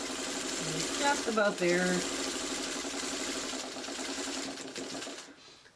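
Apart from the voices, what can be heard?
sewing machine stitching quilt flying geese blocks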